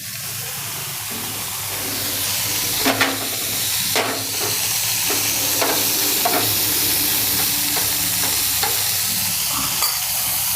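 Homemade butter heating in a pan for toasting bread for garlic bread pizza, a loud, steady frying hiss running throughout with scattered clicks and taps of utensils against the pan.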